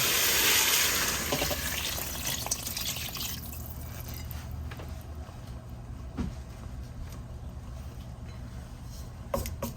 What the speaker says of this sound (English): now I'm gonna add some water